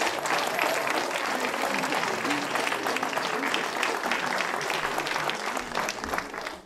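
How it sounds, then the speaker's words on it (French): Applause fills a Cégep student performance hall for a dance troupe, a steady wash of many hands clapping at moderate level throughout with some crowd noise mixed in. "Un applaudissement pour toute la danse."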